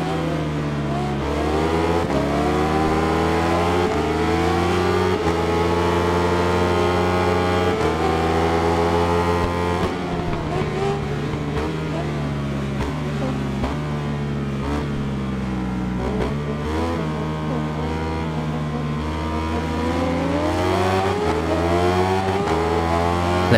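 Racing motorcycle engines in the Ride 5 game scream and rise through the gears, including an SP Honda, with a continuous loud whine of revs climbing and dropping as the bikes accelerate in a pack, alone without talk.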